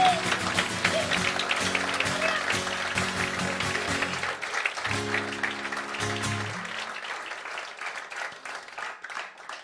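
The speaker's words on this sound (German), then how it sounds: "Euer Applaus einmal für alle" Applause rises from the audience at the finale of a live comedy talent contest, clapping and crowd noise mixed with music in the first half, then thinning out toward the end.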